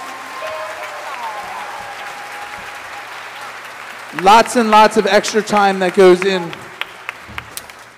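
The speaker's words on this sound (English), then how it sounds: "Let's give a big round of applause to all those students." Audience applause for students at a spring school instrumental concert: a steady wash of clapping fills the room, then a voice breaks in over it partway through.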